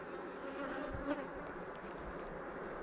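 Faint, steady buzzing of many honeybees bearding at a hive entrance, a soft continuous hum with a few brief louder passes.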